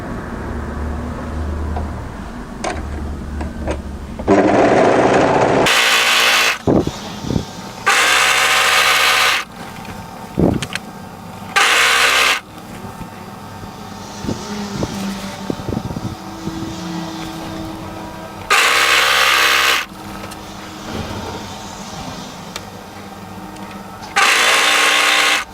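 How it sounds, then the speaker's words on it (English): A sewing machine stitching the sleeve underarm and side seam of a twist top with a crossover cowl, running in several loud, steady bursts separated by pauses with handling noises, and no talking. "now we'll sew that sleeve underarm and the side seam"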